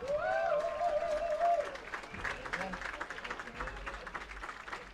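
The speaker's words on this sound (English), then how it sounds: "let's give Isla a big round of applause" A crowd at a baseball game applauds a ceremonial first pitch, the clapping soft and distant under an announcer's voice.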